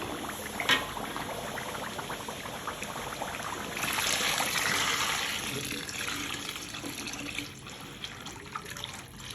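Water is poured into a hot pan while cooking batagor, bringing a rushing, bubbling splash that swells midway over a continuous close simmer.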